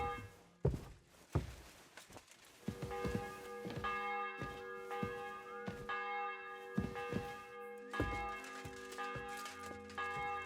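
Church bell tolling in the medieval village of Kingdom Come: Deliverance 2, a series of loud struck peals with ringing, sustained overtones, about eight strikes spaced roughly a second apart with heavy thuds at each hit.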